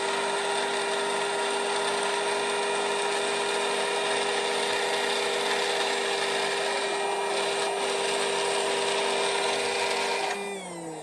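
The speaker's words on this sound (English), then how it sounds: "you can hear the motor on the smoke a bit more than normal" A small electric motor drives the smoke generator in a Tongde 1/16 RC Centurion MK5/1 tank, a constant close whirring hum with a steady tone that runs unbroken for about ten seconds before dropping off.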